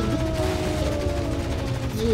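Continuous rapid gunfire and explosions from the vehicle combat video game Renegade Ops, a dense, loud stream of shots with mechanical game effects.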